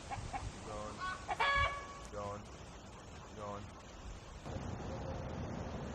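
Chickens cluck and a rooster calls in a backyard flock, with several loud clucking bursts and a brief crow standing out close by, while people talk over and between the birds.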